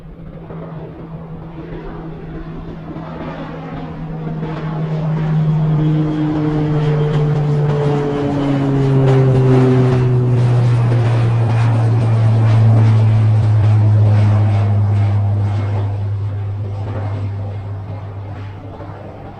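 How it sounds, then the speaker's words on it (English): A cartoon aeroplane passes overhead as a steady propeller drone that swells to a peak in the middle and slowly fades, its pitch sliding downward as it moves away, loud and alone. "But where's the aeroplane?"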